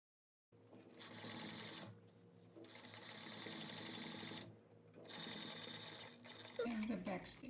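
A sewing machine stitches a tailored chest pocket with 1/2 inch seam allowances, running in steady bursts with short pauses between them. Quiet talk comes in near the end.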